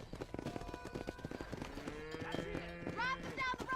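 Cattle low in the Red Dead Redemption video game during a herd drive along a road, with drawn-out moos and hoof clatter mixed with people talking.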